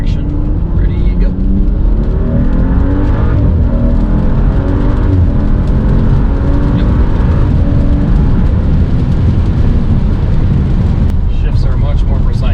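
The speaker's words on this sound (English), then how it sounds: "let's do another quick little run through the gears here" A BMW F30 tuned with Bootmod3 accelerates hard through the gears, its engine roaring loud and continuous with rising revs and shift breaks, heard from inside the car.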